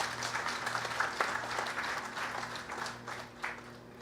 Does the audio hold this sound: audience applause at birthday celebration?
yes